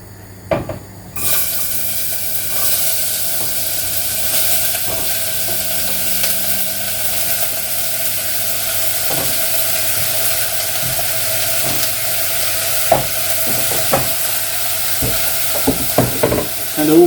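Chopped onion hits two tablespoons of hot vegetable oil in a pan for a rogan josh, setting off a loud, steady hiss that runs throughout, broken by scattered clicks and scrapes of stirring.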